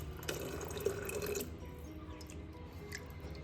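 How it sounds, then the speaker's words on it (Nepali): Warm water poured into a vessel during ghee making from butter, a close liquid pour and splash for the first second and a half, then a quieter trickle and drip. "यसैमा खनाइदिए नि हुन्छ"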